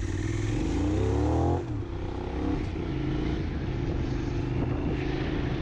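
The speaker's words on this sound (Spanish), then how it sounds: "En Avenida la moto, la verdad es que muy rápido ya estamos en cuarta marcha." A Benelli 752S motorcycle rides along an avenue in fourth gear, its engine a loud, steady drone that rises in pitch, then settles after a brief shift, continuing with wind noise throughout.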